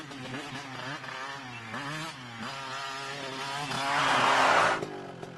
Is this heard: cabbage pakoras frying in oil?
no